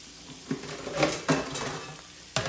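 Ground beef sizzles in a frying pan as a utensil scrapes and stirs it in a few distinct strokes, close up, with no talking.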